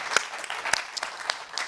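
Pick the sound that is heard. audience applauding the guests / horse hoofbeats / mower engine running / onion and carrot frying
audience applauding the guests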